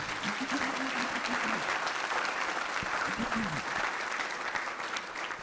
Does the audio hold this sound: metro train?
no